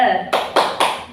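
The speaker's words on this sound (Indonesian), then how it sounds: "Tepuk semangat." A group rhythmic spirit clap (tepuk semangat) in a classroom group guidance session, three loud, close, sharp clap bursts in quick succession after a short stretch of voice.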